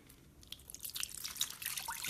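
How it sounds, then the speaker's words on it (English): Water running from a tap into a pot of bones for homemade bone broth, a close, steady splashing trickle that grows fuller and louder over a couple of seconds, with no talking. "Now we're just gonna add water in."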